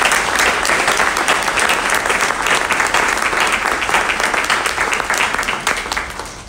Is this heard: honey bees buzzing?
no